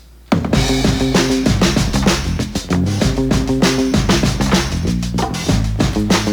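A bouncy short-scale Squier electric bass line with round, plucked notes rides over a steady drum beat, loud and close in the mix.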